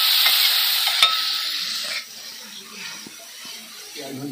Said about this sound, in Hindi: मसाला भी डाल के भून लेते हैं।